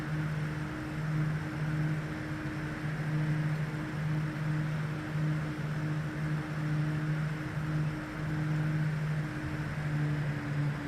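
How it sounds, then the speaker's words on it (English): A 1930s-era aircraft engine in Flight Simulator X during a MacRobertson Air Race (1934) practice flight drones steadily, with a low pulsing hum and broadband rush throughout, alone without talk. "So as I thin, see the RPM is dropping. the sound of the engine changes."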